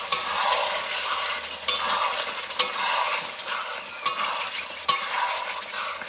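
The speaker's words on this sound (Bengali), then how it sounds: "চিকেনটা কষা হতে একটু সময় লাগবে। একটু নাড়াচাড়া করে দেবো।" Chicken being stirred and braised in a pan, a steady close sizzle broken every second or so by sharp scrapes and knocks of the spatula.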